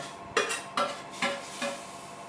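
Semolina being stirred into ghee in a pan for a dry-fruit shira: four soft, evenly spaced scraping strokes over a faint sizzle, fairly quiet and close. No one speaks.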